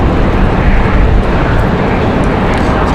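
Delta Airbus A319 going around at Raleigh-Durham airport on a windy day, a loud broad jet roar filling the scene, steady and close with wind buffeting, no talk.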